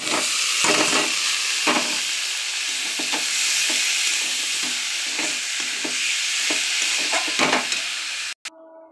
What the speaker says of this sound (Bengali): মোচাটা ঢেলে দিলাম।